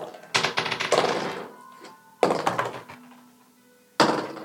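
Dice clatter and tumble onto a hard tabletop for tabletop roleplaying perception checks, three separate sharp rolls with rattling bounces that die away between them, heard close up with no talk.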